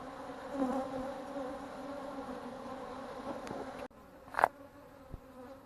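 Bees from a hive built under the soffit of a house in the attic corner, a dense close buzz that drops to a quieter hum partway through, with a brief louder buzz as one passes near.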